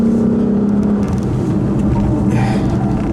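A Lexus RC F Sport coupe driving hard on a racetrack, its engine holding a steady loud drone with a tonal whine, then rising as the car accelerates, with no voices.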